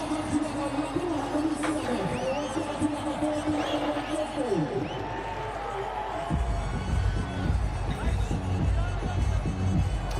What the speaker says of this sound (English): And the crowd, spectator, they're enjoying it